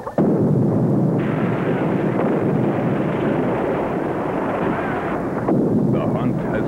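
Grenade blasts spread in a wide pattern across a jungle combat scene, a dense continuous roar of rumbling explosions and debris lasting several seconds, loud and close, with a brief lull before another burst near the end.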